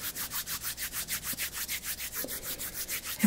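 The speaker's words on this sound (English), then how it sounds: "Rub it into my hands." Oily palms rubbing together in a steady back-and-forth rhythm, each stroke a soft close swish, repeated about fifteen times without pause.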